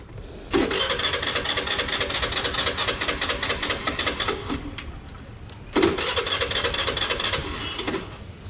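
A scooter's engine is kicked over and fails to start: two separate bursts of a few seconds of mechanical churning, each cutting out abruptly, close and fairly loud, with a quiet pause between them.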